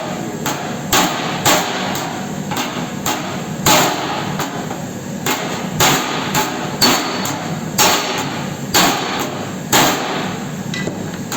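Heavy claw hammer blows strike Studebaker body metal in a steady series, roughly one sharp clang per second, loud and close, with little else in between.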